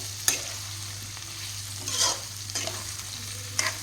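Potatoes and pumpkin in equal amounts being stirred in a hot pan for an Assamese-style chicken curry, with soft scraping strokes around one, two and three and a half seconds over a faint steady sizzle and low hum.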